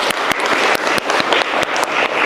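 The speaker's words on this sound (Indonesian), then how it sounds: "Tepuk tangan, keren berarti." An audience claps together, dense and close, with a few sharper individual claps standing out at irregular moments against the steady wash of hands.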